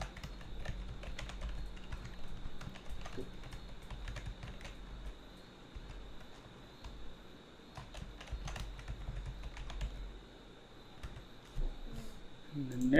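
A computer keyboard being typed on in short bursts of crisp, close key clicks, fairly quiet, with a voice talking over parts of it.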